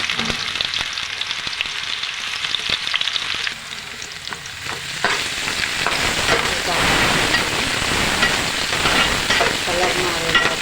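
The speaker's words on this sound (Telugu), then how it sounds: "కలర్ మారేదాకా వేయించుకుందాం" Onions frying in oil until golden for mutton biryani, a loud, dense, continuous sizzle that grows fuller partway through, with stirring scrapes and no talk over it.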